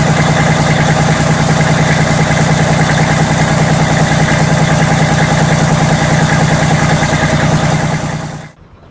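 A diesel engine idles steadily with a low, even throb for several seconds, then cuts off abruptly near the end.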